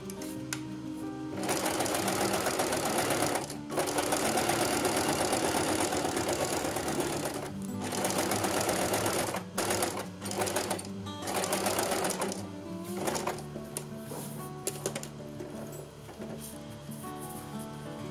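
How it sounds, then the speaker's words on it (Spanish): A sewing machine stitches along the edges of a double-filter fabric face mask, running in several long, loud bursts of rapid mechanical chatter separated by brief stops and short restarts. "Ahora le voy a pasar un pespunte a la máquina por ahí, por los lados, para que quede bien asentado."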